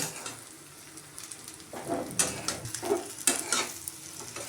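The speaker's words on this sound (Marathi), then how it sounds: "ते वांगे मसाल्यामध्ये छान परतून घेऊया आपण" Brinjal pieces sautéing in a spicy masala in a pan, a steady soft sizzle with a few louder stirring scrapes and clinks midway, close by and with no talking.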